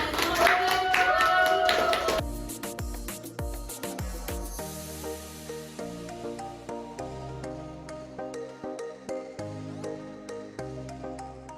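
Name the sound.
class applauding a group's correct answer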